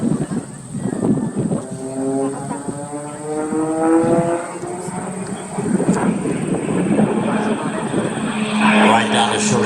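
Aerobatic airplane performing rolls and inverted passes at the 2020 New York Air Show in Orange County, its engine drone rising and falling in pitch as it sweeps past, loud and sustained under an announcer's commentary.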